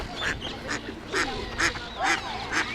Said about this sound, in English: there's an Egyptian duck here and 2 geese.